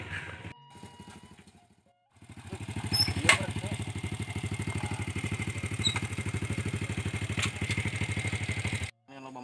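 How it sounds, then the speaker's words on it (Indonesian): A motorcycle engine putters steadily nearby, a rhythmic idle that revs up after a short pause, with faint clatter over it. "Yang loba motor euy"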